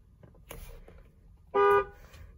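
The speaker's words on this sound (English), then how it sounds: "Very strong sounding horn." A 2019 Tesla Model X 100D sounds its horn once: a short, strong, steady blast of about half a second, close and loud against a quiet cabin after a few soft handling noises.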